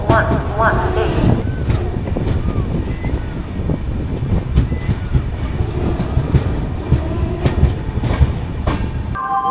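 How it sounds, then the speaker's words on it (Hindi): The Kalindi Express, train 14118, rumbles loudly on the rails near Shikohabad Junction, with rhythmic clatter, metallic squeals and a steady roar, and a voice heard faintly under the noise. "हमारी ट्रेन पहुंच गई है सिखोवाबाद जंक्शन पे"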